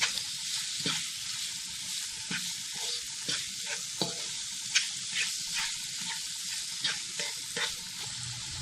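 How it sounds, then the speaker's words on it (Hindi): Chicken pieces frying in a pan, a continuous bright sizzle with quiet scraping stirs and occasional soft clicks of the utensil against the pan, heard close and alone. "चिकन का कलर जब वाइट हो जाएगा उतनी देर तक हमने इसको पकाना है।"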